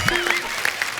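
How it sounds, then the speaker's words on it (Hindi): Studio audience applause on a Hindi television comedy talk show, a brief, dense burst of clapping that fills the clip without any talk over it. "एक बार जोरदार तालियां हो जाए मेरे लिए।"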